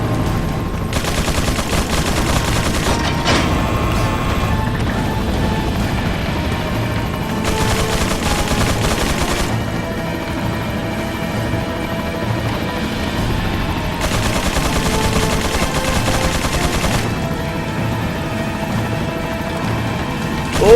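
Bursts of rapid gunfire in Resident Evil 4 on Professional mode, three long loud volleys of sustained automatic shooting separated by quieter stretches of steady background noise.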